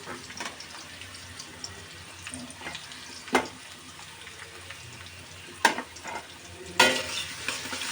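Chopped garlic and onion fry lightly in oil for a fish curry, a faint steady sizzle with soft scraping stirs and a few sharp clinks of a utensil against the pan.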